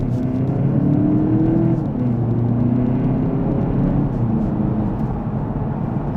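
A front-wheel-drive 2014–2023 Audi TT Mk3 accelerating hard from a standstill to 60 on a straight road, a steady droning engine rumble with rising tone heard from inside the cabin, continuous and without talk.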